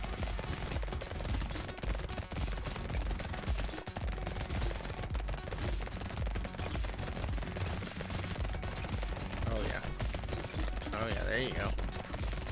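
Rapid automatic fire from an SMG-like weapon in the arena shooter Brotato, a dense, steady stream of shots that continues for the whole stretch, with a voice talking over it.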